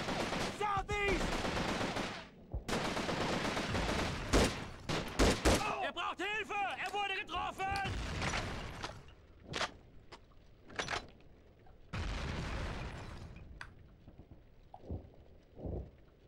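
Gunfire from the PS2 game Call of Duty 3: bursts of shots and rapid fire crack through a busy battle scene, with game voices shouting over it and scattered single shots later on.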